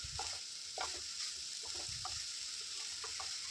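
Vegetables for vazha pindi thoran (banana stem stir-fry) are stirred in a hot pan, with repeated scraping strokes over a steady soft sizzle and no talking.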